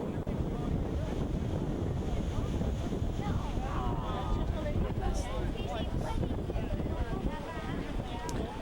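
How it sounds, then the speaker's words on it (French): Strong wind rising before a storm over a lake buffets the microphone in a continuous roar, with a voice speaking faintly through it partway along. "Le vent se lève, l'orage n'est pas loin."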